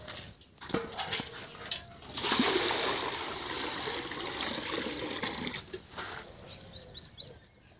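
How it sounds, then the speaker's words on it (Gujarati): Water is poured out for buffaloes to drink, a soft splashing trickle that swells for several seconds. Birds chirp faintly in the background. "અહીંયા તમે જોઈ રહ્યો છો પાણી લઈને અને ભેંસોને પાવી રહી છું"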